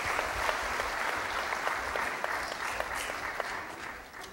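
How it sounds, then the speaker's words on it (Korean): Sustained applause from an audience at a university anniversary ceremony following a musical performance, an even wash of clapping that holds steady throughout, moderately loud and slightly distant. "다시 한번 좋은 연주를 들려주신 우리 네 분께 큰 박수로 감사의 뜻을 전해주십시오"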